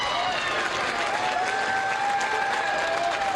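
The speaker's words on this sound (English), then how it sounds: "And the Sparta crowd has come to life." Crowd in a gym at a boys' high school basketball game against Sparta, applauding and cheering steadily as a home player stands at the free throw line, dense continuous clapping with raised voices and a whistle-like tone.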